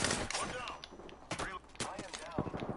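Gunfire in the Apex Legends battle royale game, fast irregular bursts of shots crackling sharply at moderate volume, some shots closer and punchier than others.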